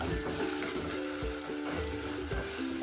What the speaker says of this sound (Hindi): चिकन को अच्छा सामने कलर आने तक फ्राई करना है।